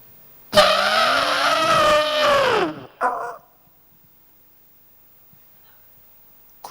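A voice imitates Michael Schumacher's Formula One racing car pulling into the pits, a loud sustained whining engine drone with shifting pitch for about two seconds, then a short burst before silence.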